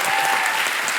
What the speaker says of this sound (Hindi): मिक्की जी और हाकिम जी के लिए जोरदार तालियां